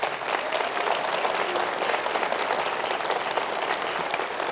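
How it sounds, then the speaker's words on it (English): A campus event audience breaks into sustained applause, dense clapping from many hands filling the room steadily and fairly loud throughout, with no talking over it. "give them a round of applause"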